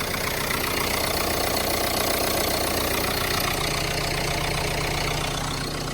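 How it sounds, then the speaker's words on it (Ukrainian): A 2016 Renault Scenic engine idles steadily and evenly, a continuous mid-low rumble with a faint knocking texture, recorded close with no talking. "Двигун працює чітко."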